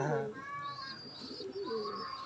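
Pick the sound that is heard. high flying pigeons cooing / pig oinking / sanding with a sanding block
high flying pigeons cooing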